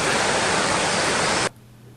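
A waterfall pours into a stream pool at Edzell in Angus, Scotland: a loud, dense, continuous rush of falling water that cuts off abruptly, leaving only a faint hum.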